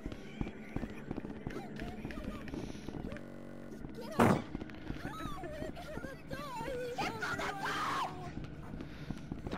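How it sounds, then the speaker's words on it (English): Players in Rec Room voice chat screaming and shrieking over one another, with a loud burst near the middle and a dense, chaotic mix of voices throughout. "There's so much screaming. All these squeakers screaming."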